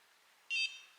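A NuFACE facial toner device gives a single short, clear electronic beep, followed by a brief faint click in an otherwise quiet room.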